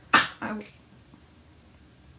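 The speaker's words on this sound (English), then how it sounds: "was my dog coughing" A dog gives two sharp, hacking coughs close by, then quiet room tone follows.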